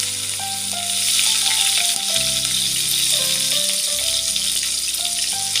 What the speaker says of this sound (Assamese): এতিয়া পিঁয়াজ দি দিলোঁ।